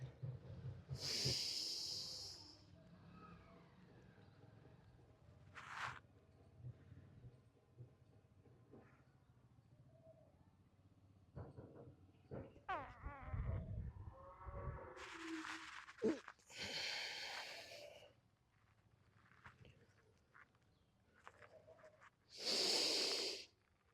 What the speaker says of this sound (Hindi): यहाँ पे साँस अंदर भरेंगे